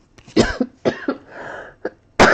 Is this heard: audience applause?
no